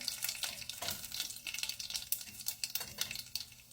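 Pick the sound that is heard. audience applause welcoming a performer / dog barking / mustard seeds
mustard seeds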